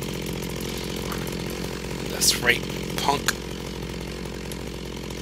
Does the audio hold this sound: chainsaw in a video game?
yes